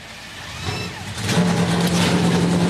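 NASCAR race car engines at Homestead-Miami Speedway start up and build into a growing rumbling roar, a field of 38 cars revving together in the distance and rising steadily in volume.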